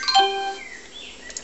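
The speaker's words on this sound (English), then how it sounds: "Chimes." The Windows 3.1 Chimes system sound plays through speakers on an IBM PS/ValuePoint 433DX/Si: a quick cascade of bright, bell-like tones that rings briefly and fades, heard alone.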